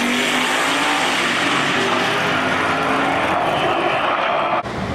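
LS-engined drag race car making a pass, a loud, sustained engine roar that holds steady at full throttle for several seconds before cutting off abruptly near the end.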